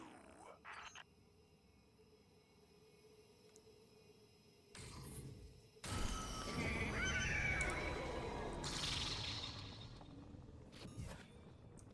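A horse whinnies loudly and at length, with quieter thumps and background noise before it.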